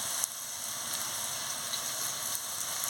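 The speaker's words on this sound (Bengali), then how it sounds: "এই মশলার সঙ্গে আলুগুলো ভালো করে ভেজে নিচ্ছি।" Potatoes fry with spices in a pan, giving a steady, dense sizzle with faint crackles and no voices.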